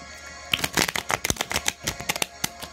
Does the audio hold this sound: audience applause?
no